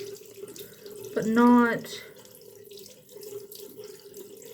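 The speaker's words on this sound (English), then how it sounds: "I turn the water on and I wait for it to get kind of warm" Bathroom tap water running briefly into a sink, a short loud gush under a voice before it quiets again.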